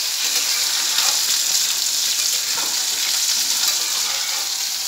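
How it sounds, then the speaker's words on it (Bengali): Fish sizzling steadily in hot oil in a pan, a continuous close, loud frying hiss with no talk. "আর এখানে মাছটা ভাজা হচ্ছে, মাছটা উল্টাও।"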